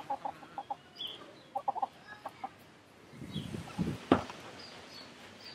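Backyard hens clucking in a garden, a series of short soft clucks followed by a louder burst of clucking and squawks near the end.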